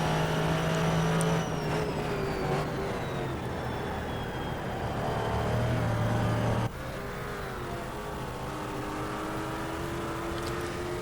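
Race car engine lapping Spa in a sim racing game, a steady loud drone with shifting pitch through corners and a sudden drop at one point as the car lifts or shifts, no talk.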